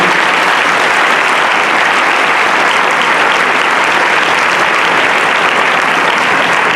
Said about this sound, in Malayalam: നിങ്ങളെല്ലാവരും അവർക്കൊരു ബിഗ് ക്ലാപ്പ് കൊടുക്കണം.